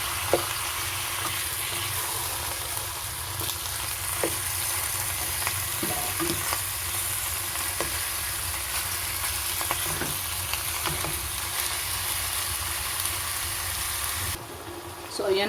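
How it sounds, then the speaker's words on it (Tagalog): Pork pieces frying and being stirred in a pan for adobo: continuous close sizzling with occasional scraping knocks from the stirring, steady and moderately loud throughout. "Haluin lamang po natin ang ating meat."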